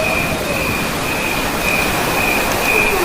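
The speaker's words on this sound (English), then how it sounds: "Even the crickets are in time with the actual breath." Crickets chirp in steady, high-pitched trills within a breath-paced music track, layered over a continuous noise bed and faint sustained tones, with no talk.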